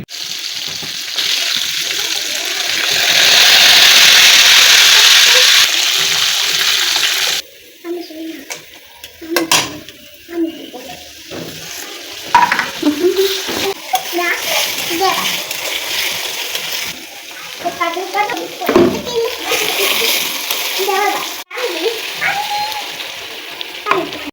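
A whole chicken frying in hot oil for a chicken roast, starting with a loud steady sizzle, then a softer hiss broken by spoon stirring and scraping, while adults and someone talk over it.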